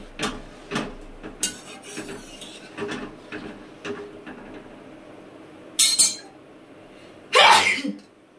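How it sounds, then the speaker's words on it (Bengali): Two loud, sharp sneezes burst out near the end, following a stretch of light rubbing and clinking of dishes and utensils in a kitchen. "এত হাঁচি দেওয়া যদি কেউ দেখে"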